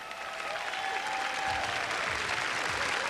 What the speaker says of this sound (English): Why don't we give these girls another round of applause,